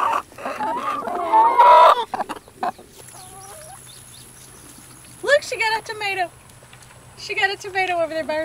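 Chickens cluck and squawk nearby in scattered bursts, separated by quieter stretches with a faint steady hum.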